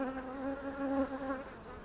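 Honey bees buzz steadily at close range during an inspection of a hive just after two colonies were merged, a continuous droning hum with slight swells and no talking.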